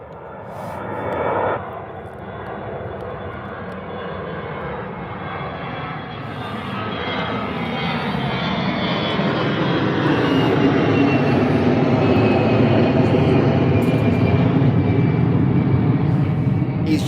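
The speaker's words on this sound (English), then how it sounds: "EasyJet A320 heading out into the sun." An EasyJet Airbus A320 jet departs Birmingham airport, its engine roar swelling into a loud, sustained rumble with a gradually rising whine; one brief thump comes early on.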